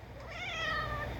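A house cat gives a single drawn-out meow lasting about a second, close and clear against a quiet indoor background with no talking.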